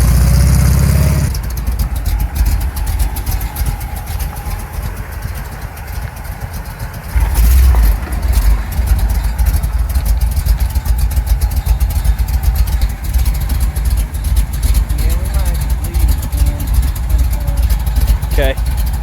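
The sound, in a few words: 1975 Chevrolet C10 truck engine rumbling at idle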